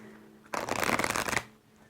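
A quick riffle of tarot cards being shuffled, a dense papery flutter lasting about a second, close and fairly loud, with quiet room tone before and after.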